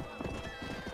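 Horse hooves clopping in Red Dead Redemption, a quick burst of hoofbeats close by under a dense layer of other game sound, with a voice also present.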